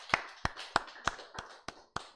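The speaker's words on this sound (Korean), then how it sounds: "하나님께 영광의 박수 돌려드리겠습니다" A church congregation claps in praise during a Sunday worship service: seven sharp, evenly spaced claps in a steady rhythm, close and distinct, with no talking.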